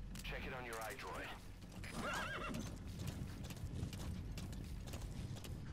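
Horse hooves clip-clop steadily as a horse whinnies twice, with a constant mechanical hum underneath, in the video game Metal Gear Solid V.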